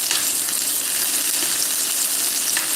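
Steak browning in a hot frying pan, cooked on all sides for a steak sandwich: a steady, close, bright sizzle and crackle of searing meat with small pops, continuous throughout with no talking.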